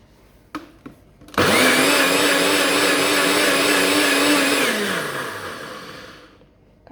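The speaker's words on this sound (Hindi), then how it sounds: "चलें जी अब ब्लेंडर को ऑन करते हैं" A kitchen blender making a mint honey lemon drink roars to life after a few faint clicks, running loud and steady for several seconds before its motor winds down.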